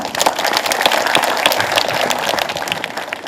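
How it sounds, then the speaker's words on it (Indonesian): Applause from a religious gathering of Islamic zikir and taklim groups honoring the As-Siddiqi zikir assembly, busy crisp clapping from many hands, fairly close and steady, with no talk over it. "Kita beri tepuk tangan."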